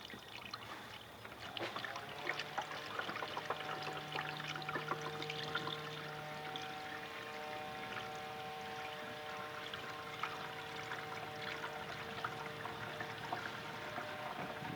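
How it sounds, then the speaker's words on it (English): Coolant poured into the overflow reservoir of a 1997 Chevy Blazer with a 4.3L engine, a continuous close liquid pouring and gurgling with small splashes that runs alone for the whole stretch. "Now we're going to fill up the overflow up to the cold line."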